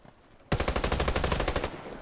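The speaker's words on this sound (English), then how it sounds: "This gun, it has such good range." An AM-17 rifle in Warface fires in a sustained automatic burst, a rapid even stream of shots that starts abruptly and runs for over a second before cutting off, loud and close with no talk.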